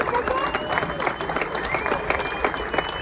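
An audience at a fishing tournament applauds the top three teams, a dense steady ovation of many hands with voices and cheering mixed through it.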